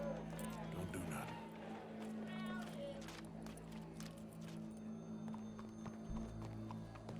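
Horse hooves clip-clop steadily in Red Dead Redemption 2 as a rider draws near, heard over a busy game soundscape with murmuring voices and a crowd in the background.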